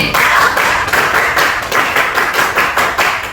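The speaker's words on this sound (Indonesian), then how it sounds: "kita ingin tepuk konsentrasi" Classroom of pupils in an Indonesian lesson performs a concentration clap: loud, rhythmic bursts of many hands clapping together in a repeated patterned beat, close and steady with no talk.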